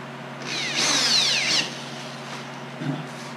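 A power drill or driver runs up as it tightens Phillips screws into wood during assembly, a rising whine lasting about a second with a brief ratcheting buzz, then a short second burst near the end, close and clear.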